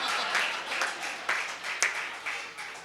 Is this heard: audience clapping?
yes